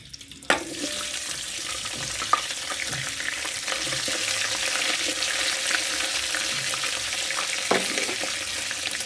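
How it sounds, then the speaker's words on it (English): Beef frying for Kenyan pilau gives a steady mid-level sizzle throughout, broken by a few sharp clinks of a utensil against the pot, with no talking. "So let's just fry it until it turns to golden brown."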